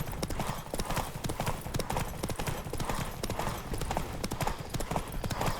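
Hooves pound rapidly in a steady galloping rhythm as a horse races in The Witcher 3, loud and close, with faint vocal sounds mixed in.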